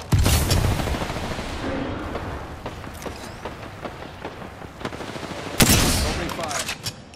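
Rapid bursts of gunfire ring out in an Apex Legends match, loud and close, with sharp repeated shots clustered at the start and again near the end over a busy game background.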